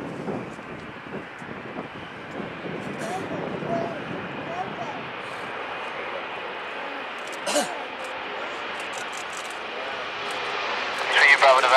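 An aircraft at Manchester Airport near runway 23L, a steady engine roar at moderate distance under people talking, with a brief gusty rise near the end.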